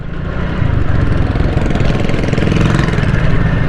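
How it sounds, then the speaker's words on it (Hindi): Motorcycle ride over a scraped, milled road surface in a residential colony, with a steady, loud low engine drone and rough rumbling throughout, no talk. "हमारी मोटरसाइकिल जो है ना डगमगाएगी इस रोड"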